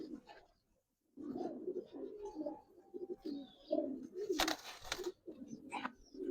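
Big pigeons, a cock and hen of the Giribaz breed, coo repeatedly at close range in soft, throaty rolling calls with a brief burst of wing flapping near the end.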